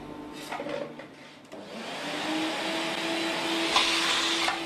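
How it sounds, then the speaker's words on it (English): A HEPA filter vacuum cleaner starts up and runs with a steady, rising whine while clearing dust and debris from a circular saw table, with a few clunks of the nozzle against the surface. "Clear the Curcular Saw table of any debris and dust using the HEPA filter vacuum cleaner."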